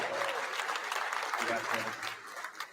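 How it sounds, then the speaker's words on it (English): Crowd applause at a kayak fishing national championship awards ceremony in Shreveport-Bossier, Louisiana, brisk and fairly loud clapping over a short stretch with voices audible in the mix. "y'all give him another round of applause"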